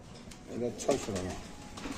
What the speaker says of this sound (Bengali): এখানে আছে পাঙ্কি কবুতর দেখতে পাচ্ছেন